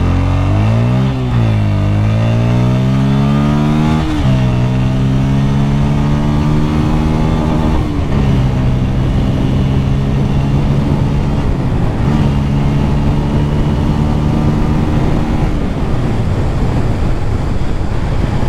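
A Bajaj Pulsar N160 motorcycle with dual channel ABS revving hard and accelerating, its engine note climbing and dropping through gear changes, loud and close with steady wind noise throughout.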